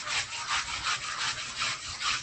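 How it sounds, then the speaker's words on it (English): Body work is hand-sanded with 80 grit sandpaper in steady back-and-forth rasping strokes, about eight in a row, close and even, with no voices. "you cut it with 80 grit. Get your shape with 80."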